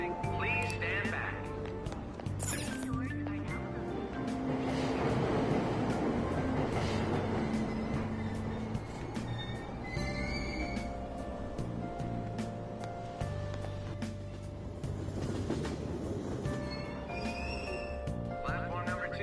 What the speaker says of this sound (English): Train doors are now closing.